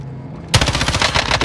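Video game automatic gunfire erupts suddenly after a quiet moment, a rapid, loud, close burst of machine-gun shots that continues to the end.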